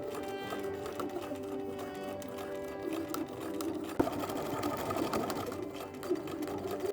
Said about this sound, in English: stitch all the way around 5/8 of an inch and then go around one more time at 1/2 of an inch